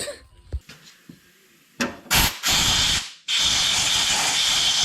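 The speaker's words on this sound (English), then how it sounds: "We'll take an air hose, blow around the distributor here quick" An air hose blows around the distributor of a 1972 AMC Javelin parked for 52 years, with a few short taps and bursts, then two sustained loud hissing blasts of compressed air up close.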